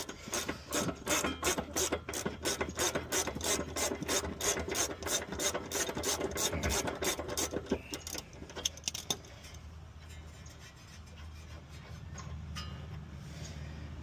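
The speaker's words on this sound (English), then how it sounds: "Well, the ratchet held up" A ratchet cranks on the driver-side front outer ball joint of a Nissan Stagea, giving a fast, steady run of loud clicks for about nine seconds before it stops and leaves a quiet workshop hum.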